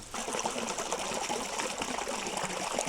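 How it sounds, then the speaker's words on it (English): A gentle trickle of fresh water runs on rural land in Central Portugal, a steady, soft, close splashing flow that continues evenly without talk. "for now we have a gentle trickle, and it's nice to have fresh water like this"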